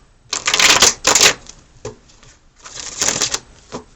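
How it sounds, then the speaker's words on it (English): Tarot cards are shuffled in quick riffling bursts, crisp and close, with short pauses between rounds. "I'm almost finished with this shuffle and we'll get started."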